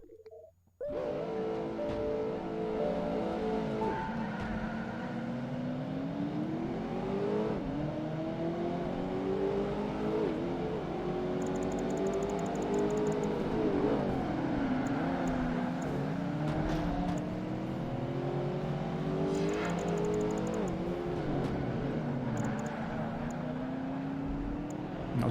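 A Ford GT40 race car in Project Gotham Racing 2 roars off the line in a street race, its engine revving hard and loud through repeated rising sweeps as it shifts gears, running continuously with no talk.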